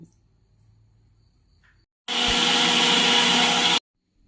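A wet grinder runs on rice batter for guliyappa in one loud, steady burst of whirring motor noise lasting under two seconds, preceded and followed by near silence.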